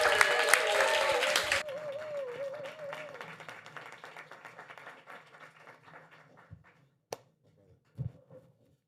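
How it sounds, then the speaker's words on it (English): An audience at a live morning workshop applauds a speaker, a loud burst of clapping at the start that thins and fades over several seconds, with a few scattered claps and a voice near the end. "So I need y'all to give a round of applause to your sibling, Alistair Edwards."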